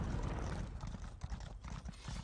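Quiet, muffled video game horse hoofbeats clop in a steady running rhythm, soft and somewhat distant, with no voices.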